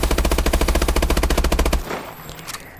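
Automatic rifle fire at a firing range in Call of Duty: Advanced Warfare, a loud rapid burst of about twenty evenly spaced shots lasting under two seconds, then quiet clinks and faint mechanical sounds.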